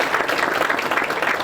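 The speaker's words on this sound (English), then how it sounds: "can we give our Delco District Attorney another round of applause?" Audience applause for the Delco District Attorney at Chester City's inaugural People's Ball, a steady wash of many hands clapping together at close range, dense and even for the whole stretch with a few voices mixed in.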